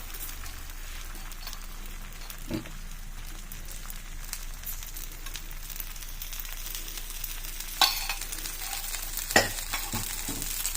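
A rice flour dosa fries in oil on a pan, giving a soft, steady sizzle throughout, broken by a few sharp clinks and scrapes of a utensil near the end.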